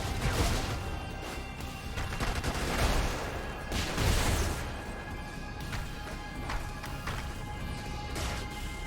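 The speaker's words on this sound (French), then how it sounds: "C'est deux lasers." Twin lasers fire in rapid succession in the mech combat video game Brigador, a dense, loud barrage of crackling bursts and blasts layered over constant game noise, with no talking.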